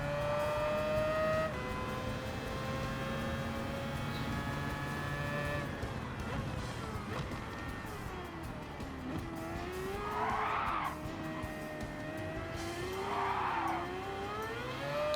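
Race car engine at Spa in Gran Turismo 7, a steady high revving drone with gear changes and a pitch that rises and falls through the lap, plus a couple of brief tire-squeal bursts near the end, with no talk over it.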